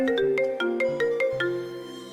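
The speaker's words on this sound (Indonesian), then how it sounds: "ponselnya berdering lagi berkali-kali hingga 10 kali" A mobile phone ringtone plays loud and close as a repeating melodic electronic chime, with steady tone bursts stepping through the tune and no voices.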